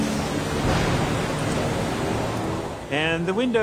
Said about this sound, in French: Tout de suite, il commence à faire sombre et la pluie frappe le fuselage.